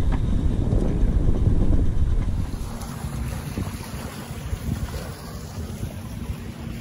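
Wind buffets the microphone aboard a Condor 40 trimaran under sail, a steady rushing roar with water hissing along the hull, strongest at first and then settling to a softer, even blow.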